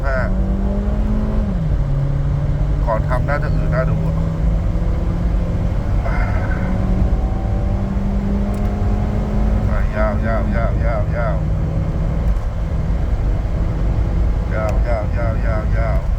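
Stock Honda Freed with standard exhaust, air conditioning on and fully loaded, accelerating in a speed test on gasohol 95; a steady engine drone rises in pitch through gear changes, with someone talking over it.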